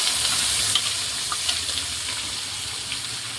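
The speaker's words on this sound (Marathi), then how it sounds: "त्याला थोडंसं हलवून घ्यायचं हलक्या हाताने" Ground masala fries in a pan of soybean curry and is stirred gently, giving a steady close sizzle with light scraping stir strokes throughout and no talking.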